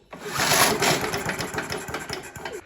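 Briggs & Stratton 4-stroke alloy-bodied lawn mower engine firing after a pull start, a close, uneven chugging putter that rises quickly and then sputters on irregularly for a couple of seconds.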